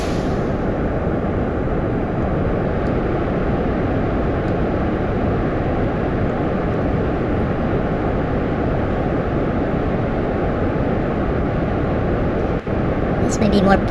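Rocket engines at half throttle in Kerbal Space Program give a dense, steady roar of broadband noise, loud and unbroken for the whole stretch, ending with a brief knock near the close.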